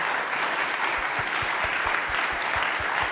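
A seated audience at a university welcome session gives a steady round of applause, dense clapping throughout with faint low thumps underneath and no speech.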